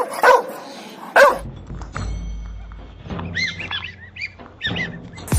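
A dog barks in a comic prank setting: two loud, sharp barks close by, followed by softer yelps and scattered chirpy calls.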